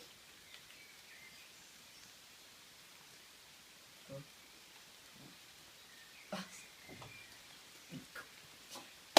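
Heavy rain falling outside, a faint steady wash with scattered louder drops and soft knocks, no talking.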